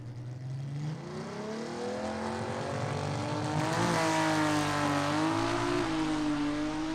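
A gasser-class drag race car from the H gas category runs its engine at a dragway, giving a loud, continuous roar whose pitch climbs and wavers with revving, steady throughout with no talking.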